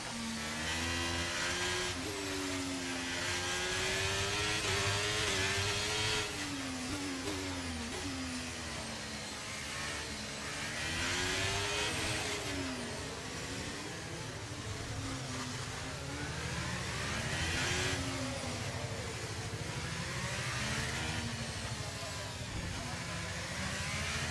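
Formula 1 car engine in F1 23 at Monaco, a continuous high-revving whine that climbs and drops through gear changes, loud and close throughout, with a voice talking over it.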